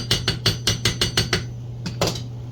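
A lithium-ion battery part is flattened on a vise with a run of seven evenly spaced hammer taps, then a short pause and two more, close and fairly loud over a steady low hum, with no talking.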